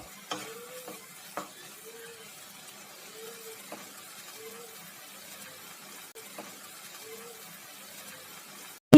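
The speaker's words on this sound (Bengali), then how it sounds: "সব মশলাগুলোকে খুব ভালো করে কষে নেব যতক্ষণ না এর চারপাশ থেকে অল্প অল্প তেল ছাড়তে শুরু করছে" Spice masala with salt for prawn curry is stir-fried in a pan, giving a soft low sizzle with scattered scraping spatula strokes and a faint repeating tonal whine underneath.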